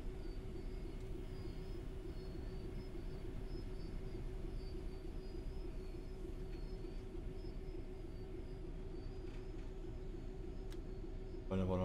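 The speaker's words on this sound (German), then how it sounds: "fahren wir hier schön geschmeidig in den Bahnhof ein" A Southeastern Highspeed train pulls into a station in the Train Sim World 3 video game, giving a faint, steady rumble of running gear for about twelve seconds, with a brief sharper sound near the end.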